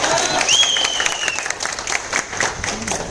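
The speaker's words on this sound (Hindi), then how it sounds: "तालियां बजाओ।" An audience at a mindset training seminar claps together in a loud, steady burst, with a raised voice or whoop cutting through the crowd noise early on.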